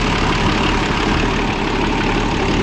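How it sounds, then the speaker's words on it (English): A classic Oliver tractor engine idles smoothly at about 700 RPM, a loud, steady, close low rumble with an even, rapid knock and no voices. "she is idling nice and smooth now"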